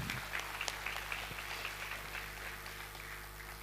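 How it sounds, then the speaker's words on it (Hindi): Audience applause at a company's first-anniversary event in Patna, fairly faint and steady clapping with a low constant hum underneath and a few sharper claps standing out early on. "हम चाहेंगे कि इस विजन के लिए एक बार जोरदार तालियां बजाएं।"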